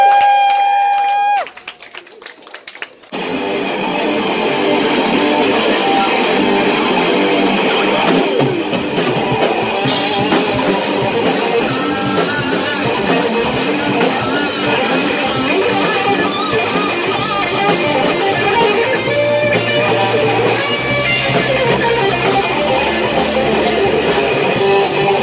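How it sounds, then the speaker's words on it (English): Audience applause and cheering at a local music festival at night, a loud sustained crowd roar with clapping building after a brief quiet start. "Give yourselves a round of applause for coming down here tonight."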